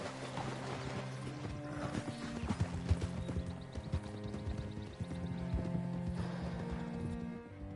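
Horse hooves clip-clop at a steady walking pace in Red Dead Redemption 2, close and fairly quiet under a bed of background music, with a brief whinny.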